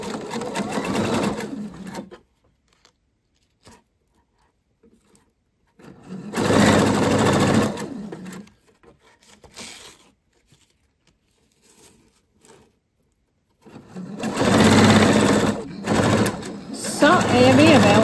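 A sewing machine runs a straight stitch across a sequin skirt in three loud bursts of steady whirring, separated by quiet pauses, with a voice talking between runs.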